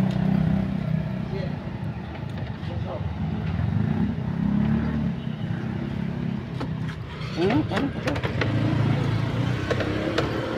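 A car engine runs steadily through a driving practice session, a continuous low rumble with a slight rise in revs near the end, while people talk over it inside the vehicle.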